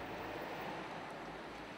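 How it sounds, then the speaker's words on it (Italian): Water from a leaking pipe runs along a street in Bassano, a steady broadband rush with outdoor wind noise, continuous and fairly close throughout with no talking. "vedo l'acqua qua che corre, ma adesso stamattina corre più del solito"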